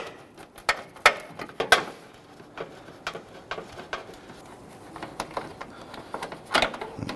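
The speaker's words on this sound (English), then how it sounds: "stubby ratchet is pretty much the only thing you're gonna fit in there." A 1/4-inch stubby ratchet turns a headlight bolt on a 2011-2023 Dodge Charger with a 3.6L V6, making sparse, quiet, irregular clicks and clatters up close.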